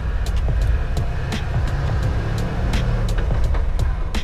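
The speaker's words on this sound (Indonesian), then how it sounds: "nyetir Range Rover klasik" A classic 1970s Range Rover being driven, its engine droning steadily up close with a continuous low rumble and faint periodic clicks or ticks over the top, no talking.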